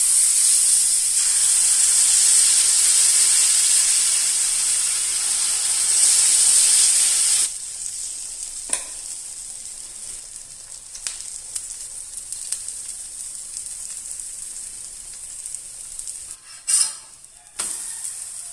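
Banana dosa frying in ghee on a pan: a steady, loud bright sizzle fills the first seven seconds, then drops to a softer crackle with occasional sharper pops and scrapes near the end.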